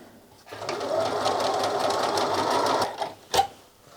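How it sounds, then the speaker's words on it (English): A sewing machine runs in a steady fast whirr for about two and a half seconds while stitching quilt pieces, then slows and stops, followed by a sharp click nearby. "Then I'm putting the side of my foot on this line and sewing down."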